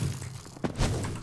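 A heavy seismic slam attack lands in a Minecraft game, one loud, close thud with a short boom that tails off into game noise.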